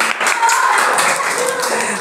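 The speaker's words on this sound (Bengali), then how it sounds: "ফারহানার জন্য জোরে হাততালি হোক।" A crowd at a school quiz competition claps for a participant, a dense, loud wash of applause from many hands throughout.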